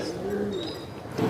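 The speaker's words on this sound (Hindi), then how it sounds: "देखो ये लास्ट कबूतर है" A soft, low pigeon coo rolls briefly, with faint background bird sounds and no talking.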